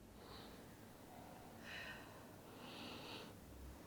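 Ash breathing heavily during a glute-building workout, three or four hissing, effortful exhales rising out of a noisy, quiet background with no speech.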